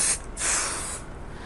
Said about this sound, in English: I will put the spray on the batting and under the top